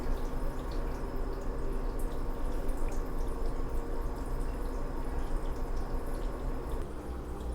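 Hero liquid laundry detergent is poured into a wash tub already holding water, making a steady, fairly close splashing trickle that runs evenly throughout without any voices.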